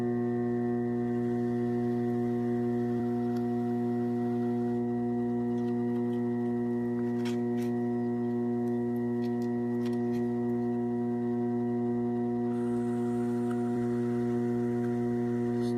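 Steady low hum of a pottery wheel motor spinning at increased speed, a constant drone with faint mechanical overtones, no talking.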